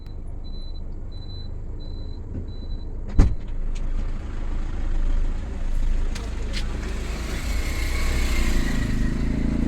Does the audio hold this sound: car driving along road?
yes